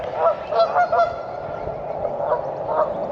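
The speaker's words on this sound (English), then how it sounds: "than to listen to those geese over there" Several geese honk repeatedly at close range, loud overlapping calls in quick bursts with a steady outdoor background.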